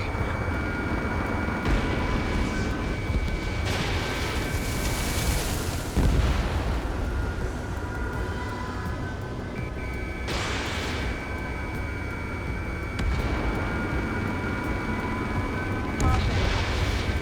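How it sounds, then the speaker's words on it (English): Ace Combat 7 combat fills the air with repeated heavy booms and rumbling explosion bursts over a loud jet-engine roar, with dense, continuous noise and several distinct blasts. "Missile away."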